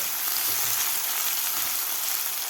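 Chopped vegetables sauté in a hot pan for savory semolina tikhat shira, a steady, even sizzle and hiss that runs throughout, close and fairly loud, with no talking.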